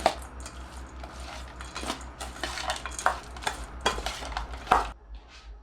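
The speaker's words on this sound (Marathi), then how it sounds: "आणि हे छान मिक्स करायचं आहे सगळं" A spoon mixes matki bhel in a bowl together with date chutney, giving soft scraping and irregular light clinks that come close and fairly quiet, with a few sharper taps near the end.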